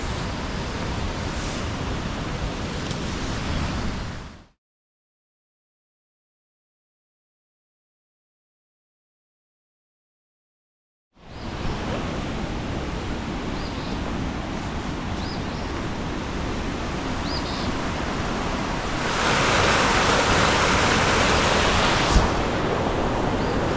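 Raven Fork creek in the Smokies rushes as a broad, steady wash of flowing water close by, cut off by a silent gap partway through and then resuming louder.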